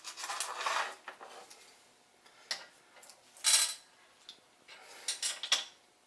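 Small metal screws being handled and sorted during assembly of a Swag Off Road band saw table, giving light clinking and rattling in several brief bursts, close up and fairly quiet with gaps between.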